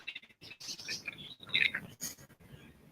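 Pet parakeets give quick, high chirps and tweets in short bursts, close by in a home, with faint voices now and then underneath.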